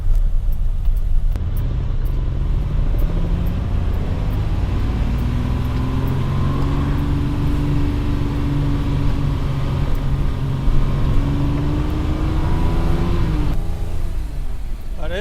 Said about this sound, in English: I'm just going to take a quick spin down the road